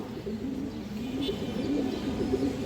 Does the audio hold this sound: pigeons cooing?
yes